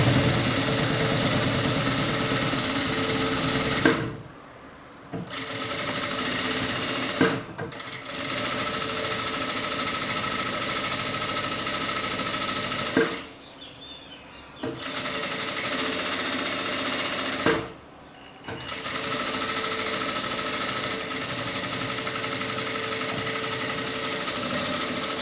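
Sewing machine stitching fabric bias tape, loud and close, running in long steady bursts with several short pauses between runs, a constant mechanical whir and hum with no talking.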